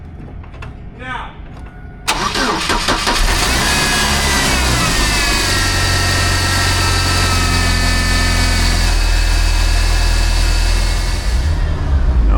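Car engine with a low boost pressure fault and about 160,700 miles starts abruptly after a brief spoken word, then settles into a steady, close idle that continues to the end.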